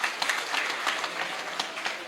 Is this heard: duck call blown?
no